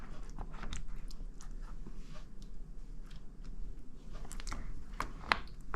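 Someone eats air fryer lasagna for a taste test, with close, soft chewing and occasional crunchy bites spread through the clip over a low background hum, no talking.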